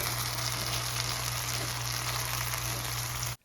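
Mushrooms and garlic fry in a wok, giving a dense, steady sizzle with faint stirring and a low electrical hum, cutting off abruptly at the end.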